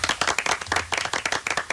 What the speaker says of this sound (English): Round of applause for Gabby.